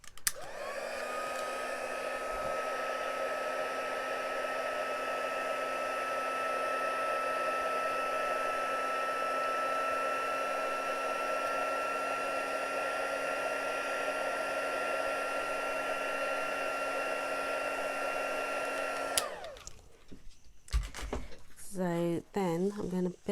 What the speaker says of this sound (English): And then heat emboss tool.